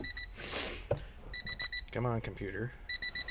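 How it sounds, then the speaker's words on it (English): Warning beeper in a Honda CRX, short high-pitched beeps in quick repeating groups, spaced through the clip while someone speaks briefly nearby. "Oh, you gotta love the Honda beeper"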